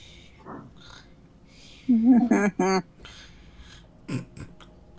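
A voice imitates snoring during a tabletop role-playing game, giving a few loud, rasping snorts in a close burst, then a single shorter snort, with soft breathing and quiet talk around them.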